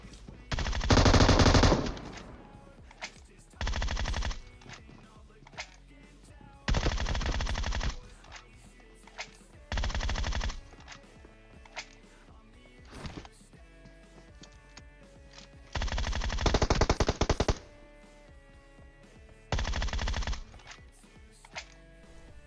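Gunfire from the PUBG Mobile video game: several bursts of rapid automatic fire, each a second or two long, separated by quiet gaps and scattered single shots.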